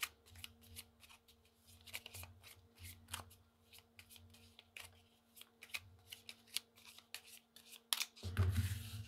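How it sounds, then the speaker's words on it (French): Oracle cards shuffled by hand, close and soft, a run of quick papery riffles and taps ending in a louder rustling burst, no one speaking. "Et on va terminer avec une petite carte de l'oracle de Lucie."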